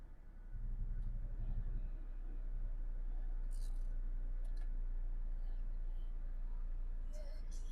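The 1.6 MPI petrol engine of a 2009 Skoda Octavia A5 idles quietly and evenly, a faint steady low hum with soft background murmur.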